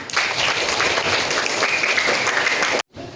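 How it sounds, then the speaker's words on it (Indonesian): Schoolchildren in an elementary classroom clapping for their classmates, a loud, dense burst of applause that holds steady, then cuts off abruptly before a short quiet tail. "Tepuk tangan untuk semuanya"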